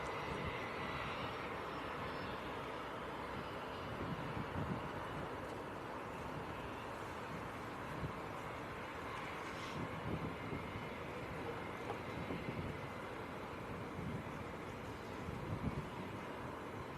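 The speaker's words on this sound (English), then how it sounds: "you can hear him taxiing onto multi-flights" A distant aircraft taxiing at Leeds Bradford Airport makes a faint, steady engine roar with some wind noise, with no one talking.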